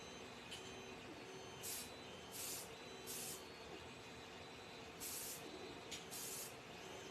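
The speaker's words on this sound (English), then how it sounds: "am I going to smell that spray paint over here?" Spray paint from an aerosol can hisses in short bursts, several spaced sprays of about half a second each over a steady background hum.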